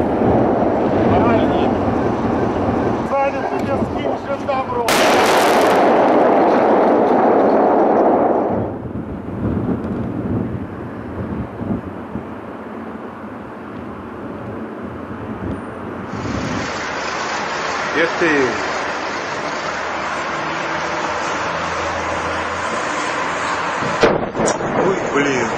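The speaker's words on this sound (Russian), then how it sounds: "Взрываются боеприпасы на 31-м арсенале." Ammunition explodes at the 31st military arsenal near Ulyanovsk: a loud, rolling roar of blasts and rumbling that surges and fades over about half a minute, with a voice heard amid the noise.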